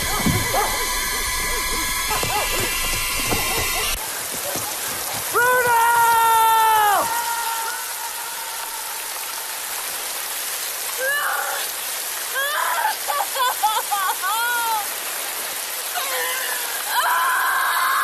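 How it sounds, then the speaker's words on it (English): A rain shower falls as a steady broadband hiss throughout, under voices and musical tones, with a louder burst at the start. "I think we're just waiting in here until the rain stops."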